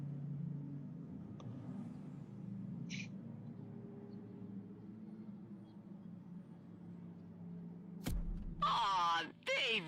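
A new Toyota Supra in The Crew Motorfest racing game gives a low, steady engine rumble that holds at a fairly quiet level for several seconds. Near the end a louder, brief voice-like burst cuts in over the engine.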